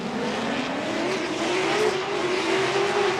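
A Nissan S14 drift car on a practice lap in Formula Drift PROSPEC knockout qualifying at Apple Valley Speedway holds a loud, sustained engine drone with rising pitch and tire noise, heard alone without commentary.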